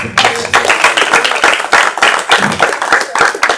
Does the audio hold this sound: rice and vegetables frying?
no